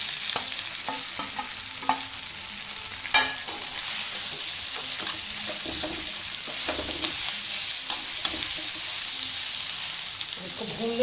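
Potatoes with green chilies frying in a pan while being stirred: a loud, steady sizzle with occasional scraping and clattering stirs, close up.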